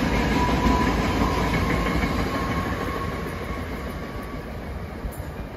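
A SEPTA commuter train passes close by in Bucks County, Pennsylvania, its steady loud rumble and rail clatter slowly easing off over several seconds, with a faint high whine running throughout.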